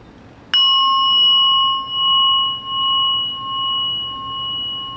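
Antique Japanese brass Buddhist altar bell (rin) struck once, giving a sharp attack followed by a long, steady ringing tone with several sustained overtones that slowly pulse and fade over several seconds, close and clear with no talk.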